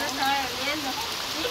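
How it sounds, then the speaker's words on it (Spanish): Rain falls steadily outdoors during an aid handout, a continuous soft patter heard close by under voices and other tonal sounds. "no esperábamos que estuviera lloviendo"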